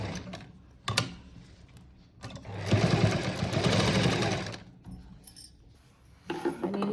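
Sewing machine running in a steady burst as it stitches along the edge of a cut-work blouse neckline, preceded and followed by quieter handling clicks and fabric shuffling; no voices.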